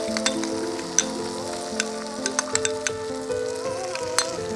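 Poppy seed paste mixed with yogurt sizzles in a hot pan with cucumber for doi posto, a steady close frying hiss broken by sharp pops and stirring clicks, with no voices.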